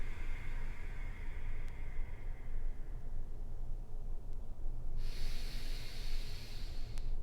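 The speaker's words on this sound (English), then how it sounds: "Deep breaths in. Longer breaths out." Slow deep breathing during a yoga flow for back pain: soft, airy inhales and exhales close to the microphone, steady and unhurried, with a hissy background.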